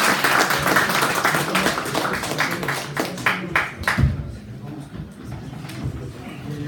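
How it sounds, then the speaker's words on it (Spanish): Audience applause for the panel speakers at an academic session on states of exception, a dense patter of claps that thins out toward the end, with voices murmuring underneath. "les pediré un aplauso para los ponentes"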